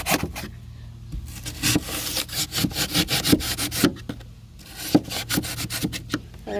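A saw cutting through pour-in flotation foam in a boat hull, with rhythmic back-and-forth rasping strokes, close and fairly loud, pausing briefly midway before the strokes resume.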